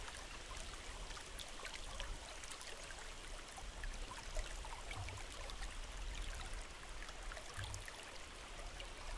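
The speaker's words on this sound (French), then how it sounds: "Concentrez toute votre attention sur les sons de l'eau, pure, simple, envoûtant." A natural stream of clear water flows and trickles steadily, a continuous soft broadband wash with no pauses and no voices.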